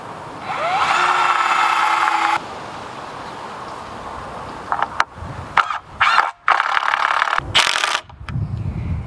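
An impact driver whirs steadily at first, then comes a series of short, rattling bursts of the driver stopping and starting, with pauses between them, while building a fence.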